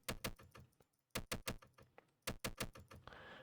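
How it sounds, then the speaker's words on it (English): Clicks from an indie video game, a cluster of sharp, crisp taps in quick bursts of two to four, separated by short pauses, close and clean with a soft hiss rising at the end. "The sound for clicking these things is great."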